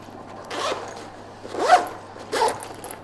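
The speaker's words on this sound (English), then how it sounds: "the zips are pretty big and solid, so quite easy to zip" A large, solid YKK zipper on a Cabin Zero ADV Pro carry-on travel backpack is pulled in three short, close rasping strokes, the middle one loudest, over a low steady hum.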